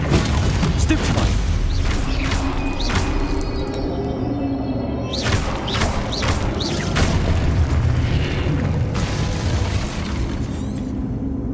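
Spell impacts in a Hogwarts wizarding video game, a series of loud booming bursts and blasts in quick succession over continuous game sound, with shouted spell-casting voices mixed in.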